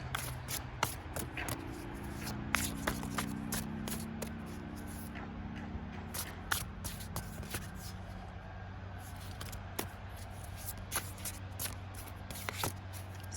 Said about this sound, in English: This deck is not shuffling easy today.